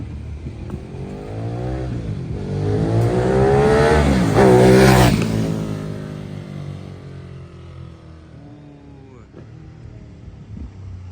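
Ducati motorcycle fitted with a Termignoni exhaust, loud and near, revving hard with rising and falling engine pitch, peaking in a strong pass around the middle before the sound fades away into the distance.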